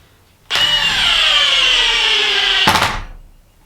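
A Milwaukee M18 Fuel 1/2-inch mid-torque impact wrench with a friction ring spins up loud and close with a high whine for about two seconds, then gives a brief rattle of hammering impacts before winding down.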